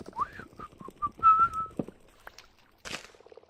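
A person whistles a short bouncy tune up close, clear sliding and held notes in a quick phrase, followed by a few soft clicks and a brief noisy rustle.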